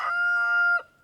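A single chicken in a late-summer backyard garden gives one loud, sustained crowing-like call at close range, ending abruptly near the end, with no talking over it.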